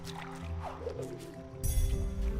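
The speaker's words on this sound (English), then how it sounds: "Let some water in." Water rushing in within the video game Ori and the Blind Forest, a dense watery surge that swells suddenly and loudly partway through, preceded by soft squishy drips.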